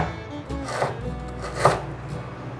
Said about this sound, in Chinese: 把香菇头切片